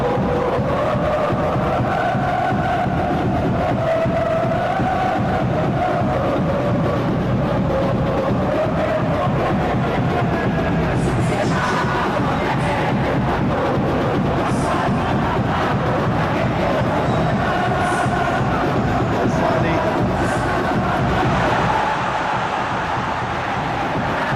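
Virtual stadium crowd noise from a Madura United versus Persebaya Surabaya football video game: a constant, loud, swelling roar with chant-like waves and occasional higher shouts, running unbroken under faint commentary.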